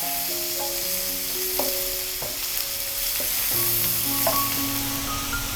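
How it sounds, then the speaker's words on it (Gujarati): Onions and garlic sauté in a pot over a medium-to-high gas flame for Mexican rice, giving a steady, close sizzle throughout with faint music underneath. "કાંદા લાઇટ ગોલ્ડન બ્રાઉન સોતે થઈ જાય"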